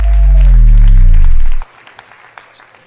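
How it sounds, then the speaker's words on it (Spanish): Audience at a comedy show claps in a loud burst of applause that cuts off sharply after about a second and a half, leaving a few faint scattered claps. "¡Un aplauso para mi canal!"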